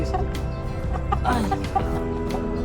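Restless chickens clucking in a backyard flock, several birds overlapping in short, busy calls close by, with no talk over them.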